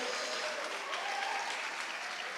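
An audience at a national debate championship final fills the hall with dense, sustained applause, loud and steady throughout with no break.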